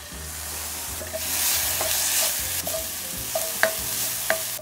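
Sugar and soy sauce simmer with ingredients in a pan for Japanese chirashi sushi filling, a steady close sizzling bubble broken by light scraping stirs and a few sharp clicks, with no talking.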